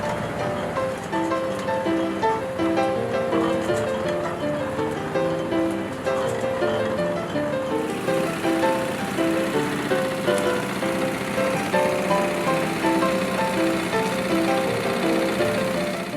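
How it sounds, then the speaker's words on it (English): A carding machine running at a woolen mill, a continuous rhythmic mechanical clatter and hum with repeating tonal whine, steady and moderately loud, without talk. "This will grab the fiber, carry it up, weight, we'll drop it down into the next apron and pulls it into the carding machine."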